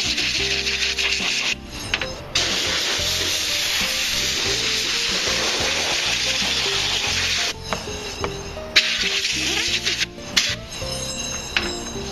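Compressed air blasts dust out of a computer case panel: long, loud, breathy hissing bursts broken by brief pauses and short puffs, close to the microphone, with no talk.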